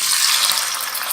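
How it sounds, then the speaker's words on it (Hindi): Warmed cooking oil, two to three tablespoons, pours into a kadhai already holding some oil, giving a steady bright hiss and sizzle, close and continuous, with no voices. "2-3 टेबल स्पून ऑयल थोड़ा सा गर्म कर लिया है। अब हम इसे ये कढ़ाई में ऐड करेंगे।"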